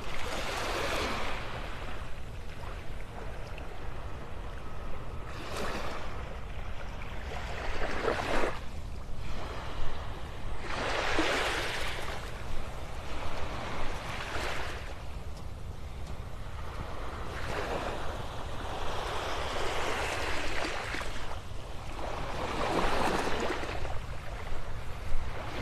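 Waves roll in and break on Vanderbilt Beach in North Naples, Florida, each surge washing up and receding in a steady, moderately loud rhythm with a light wind behind it and no voices.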